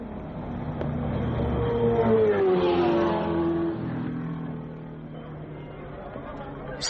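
Ferrari Formula One racing cars from the 1961 Monaco Grand Prix snarl past, engine pitch rising and falling as they sweep by on the street circuit, loud and sustained, with a narrator speaking over the roar.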